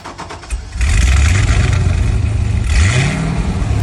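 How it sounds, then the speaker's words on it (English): A Chevrolet C6 Corvette Z06 with a 7-litre V8 starts and revs hard, its loud, close engine climbing in pitch twice over a steady rumbling idle. "all I know is that it's a 7-litre V8 and it sounds absolutely insane"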